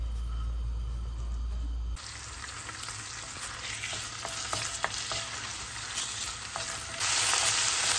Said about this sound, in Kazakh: Тауық етін 4 бұрышты кішкене бөліктерге турап алып, қызып тұрған табаға өсімдік майын құйып қуырамыз